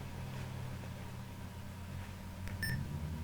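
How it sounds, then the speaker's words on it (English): Three short electronic beeps from a Sega SC-3000H home computer signal a failed memory test, sounding near and clear over a steady low hum near the end of the stretch. "Beep, beep, beep. 3 short beeps. So we have a memory failure."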